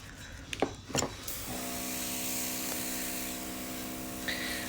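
An airbrush sprays transparent red nail paint over a yellow base, a steady, close airy hiss that starts after a few short knocks and handling clicks and runs on evenly to the end.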